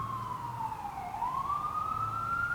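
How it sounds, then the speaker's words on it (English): Emergency vehicle siren passing outside, a single faint wailing tone that dips and then rises slowly, heard from a distance over low background rumble. "I'll let that siren go."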